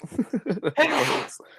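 A single sharp sneeze bursts out after a few quick breathy catches, close and loud, with a short tail afterward.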